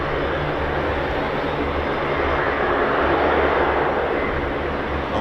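Military aircraft engines roar at the RAF Mildenhall air show, with USAF F-35, C-17 and C-130J types present, making a loud, steady broadband rumble that holds for several seconds with no talk.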